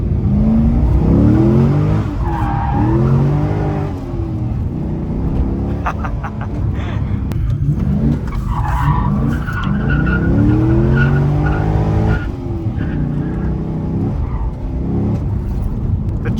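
A Corvette C6 Z06 sports car driven hard on a European road, engine roaring loudly and continuously with shifting revs and tire noise throughout, no talk over it.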